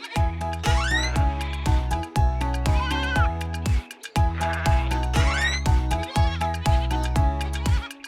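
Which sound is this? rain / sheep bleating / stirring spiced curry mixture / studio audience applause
sheep bleating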